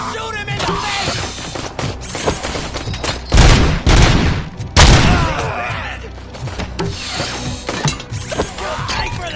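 Gunfire and mechanical weapon sounds in the video game RoboCop: Rogue City, a loud, dense mix of shots, metallic clanks and booms, with strong bursts near the middle and shouting voices mixed in.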